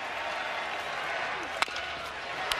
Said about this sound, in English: the Longhorn fans have finally something to cheer about here at TD America Trade